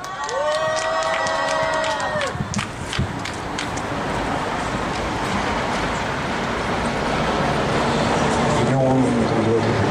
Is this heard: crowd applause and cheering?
yes